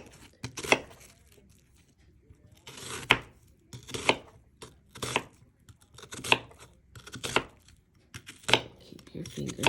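A kitchen knife slicing through an onion on a board in a steady series of crisp, close cuts roughly once a second, each a short crunchy thud, with a voice talking quietly between strokes.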